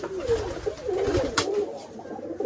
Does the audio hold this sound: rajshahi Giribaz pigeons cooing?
yes